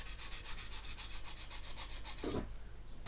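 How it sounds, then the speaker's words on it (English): Sanding stick rubbed back and forth over a plastic bulkhead on a 1/200 Trumpeter Bismarck model kit, a steady rapid scratchy stroking at close range that ends in a brief harder scrape. "I'll just work through with various grades of sanding stick again"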